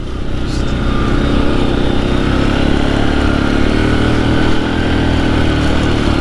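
Suzuki KingQuad ATV engine revving hard and accelerating on a trail, a loud, close, continuous motor roar with a steady droning pulse throughout.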